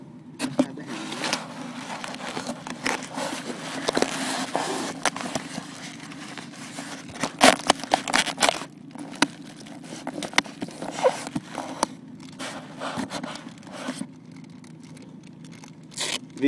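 Chemical hand warmer packets are torn open and handled while a weather balloon launch is prepared, making irregular crinkling, tearing and crackling bursts, close and moderately loud, over a steady low hum.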